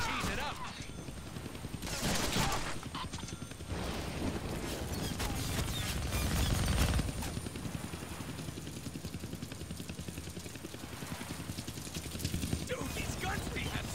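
Sustained gunfire from the Deadpool video game, dense overlapping rapid shots forming a continuous loud barrage throughout, with voices talking under the noise.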